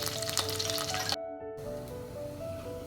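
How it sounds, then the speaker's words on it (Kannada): Garlic frying in hot oil with curry leaves in a pan for a Kundapura-style crab sukka: steady close sizzle that drops out for a moment, then returns at a lower, even level. "ಗಾರ್ಲಿಕ್ ಚೆಂದ ಫ್ರೈ ಆಗಿದೆ ಕಲರ್ ಚೇಂಜ್ ಆಗಿದೆ"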